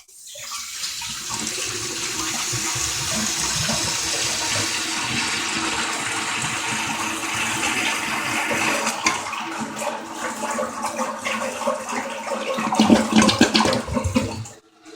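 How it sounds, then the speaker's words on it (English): A Kohler Pompton toilet flushes, heard from inside the tank: loud rushing water swells and churns for several seconds, surges near the end and then cuts off abruptly. "Here's a flush from inside the tank."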